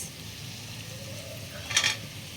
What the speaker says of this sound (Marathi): ही गाजर घालून घेऊया. ही शिमला मिरची आणि हे बीन्स.